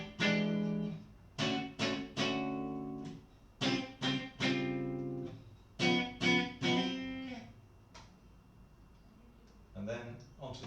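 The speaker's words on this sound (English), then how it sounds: "You can hear that slight out of phasiness there. It's a very chimey sound." A 1994 Fender CIJ Jazzmaster electric guitar with both pickups in an out-of-phase setting rings with a chimey, slightly hollow tone, playing several close groups of strummed chords and picked notes that decay between phrases, with no voices.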